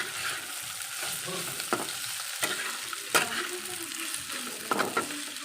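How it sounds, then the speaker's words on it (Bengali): Paneer fries in a pan with turmeric and salt, giving a steady soft sizzle. A spatula stirs and scrapes now and then, making a few sharper clacks. "এটাকে সুন্দর করে এখন ভাজি পনিরটাকে পনিরটা আজকে হলুদ আর লবণ দিয়ে ভালো করে একদম ভেজে নেব"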